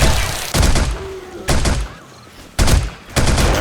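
Turrets in 7 Days to Die fire on a zombie horde during a blood-moon attack, heavy thumping bursts of gunfire arriving in several loud clusters separated by brief lulls.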